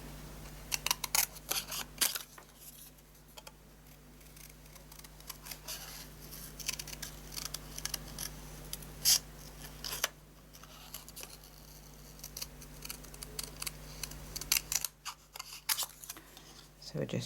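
Scissors make repeated crisp snipping cuts through stiff card stock, a quiet, irregular series of clips and rustles close to the microphone.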